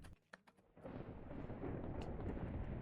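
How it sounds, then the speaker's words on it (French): Thunder from lightning strikes in a video game, a low rumbling roar that swells after a few sharp clicks and holds loud and steady to the end. "il y a des éclairs, ils tombent devant moi maintenant"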